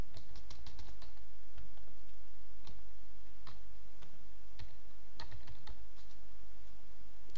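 Fingers typing a search keyword on a computer keyboard, a quick irregular run of crisp key clicks and taps, close and clear over a faint steady background hum, with no talking.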